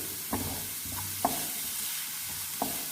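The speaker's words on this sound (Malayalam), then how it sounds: "ചൂടായ എണ്ണയിലേക്ക് ഞാൻ ചോപ്പ് ചെയ്ത് വെച്ചിരിക്കുന്ന സവാളയും ഇഞ്ചിയും വെളുത്തുള്ളിയും പച്ചമുളകും കൂടെ ചേർത്ത് കൊടുക്കുന്നു" Chopped onion, ginger, garlic and green chilli sauté in hot oil, giving a soft, steady sizzle broken by a few sharp scrapes and clacks of stirring, fairly close and without talking.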